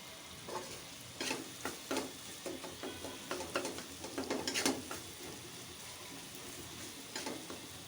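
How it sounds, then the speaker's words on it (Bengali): Spices with turmeric and chili powder fry in oil in a pan, a quiet sizzle beneath repeated scraping stirs that come in uneven bursts, busiest toward the middle. "এখন মশলাটা ভালো করে কষিয়ে নিব।"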